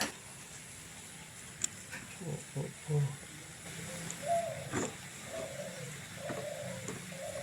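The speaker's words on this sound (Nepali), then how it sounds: "ढुकुर कराएर पक्रिन्छ" A dove coos in a Nepali village kitchen setting, a few soft, distant tonal calls spaced across the moment amid faint background noise and light clatter.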